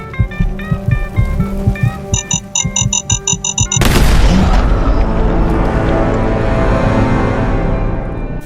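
An explosion in Fallout 4 kills a companion: rhythmic throbbing beats and beeping tones suddenly give way to a loud, booming blast that rumbles and decays slowly.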